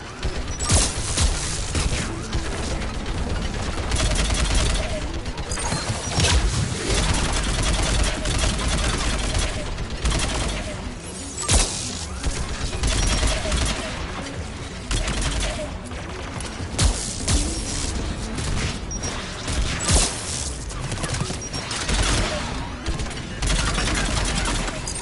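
Dense, continuous turret gunfire and explosions from Mass Effect gameplay, with rapid bursts and booms layered over one another, with brief voices heard in the mix.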